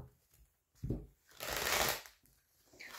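Tarot cards shuffled by hand in a few quick riffling bursts, one long crisp flurry in the middle between shorter soft rustles, close and clear with no talking.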